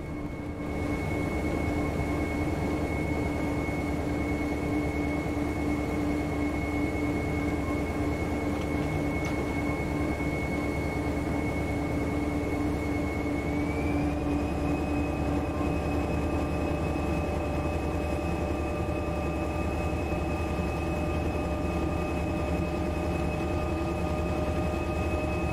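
A Corail train hauled by a CC 72000 locomotive runs through the Vosges in Train Simulator Classic, heard from a noisy cab as a loud, steady rumbling drone with a sustained whine that shifts pitch partway through, without voices.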